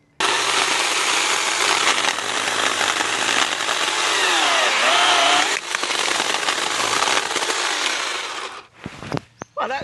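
Chainsaw cutting small wood in a garden, a loud continuous whining buzz with pitch dips as the chain bites, then the engine cuts off and a few brief knocks follow.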